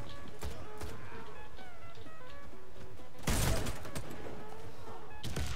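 Shots ring out in the first-person shooter Warface from a Fabarm S.A.T. 8 Pro Gold, scattered sharp cracks amid game effects, with one loud blast around midway, over a busy in-game background.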